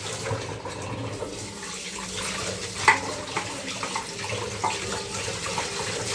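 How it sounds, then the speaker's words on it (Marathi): Tap water runs steadily into a sink while dishes are scrubbed and rinsed, with occasional soft clinks, nearby and continuous. "ही बाई भांडी बघते घासते बघते घासते"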